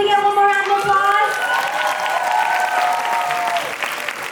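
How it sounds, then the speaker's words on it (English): An audience at a Nutcracker and the Land of Sweets show gives a sustained round of applause, with cheers and whistles over steady clapping, loud and continuous for several seconds. "Can we get one more round of applause?"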